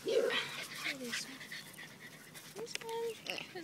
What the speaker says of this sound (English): Right here. Adorable puppy.